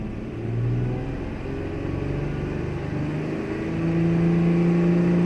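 A 2006 Toyota Tacoma engine with a loss of power, running lean, revs up gradually; a steady close engine drone climbs in pitch with rising RPM and grows louder toward the end.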